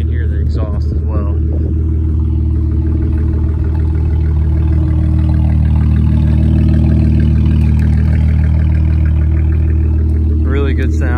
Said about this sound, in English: so you can hear the exhaust as well